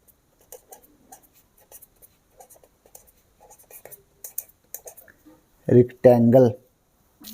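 A pen makes faint, scattered, scratchy ticks as it writes out a rectangle-area math exercise, close and quiet, before a voice speaks briefly near the end.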